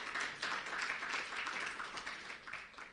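Audience applause at a political conference address, a steady burst of clapping from a crowd lasting the full few seconds, fairly even and moderately loud.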